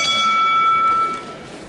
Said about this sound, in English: look how quickly he released when he heard that bell